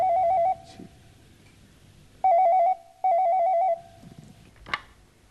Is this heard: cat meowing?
no